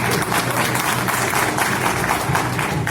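Sustained audience applause at a live Hindi stage talk show, dense and steady across the whole stretch with a broad crowd wash and no pauses.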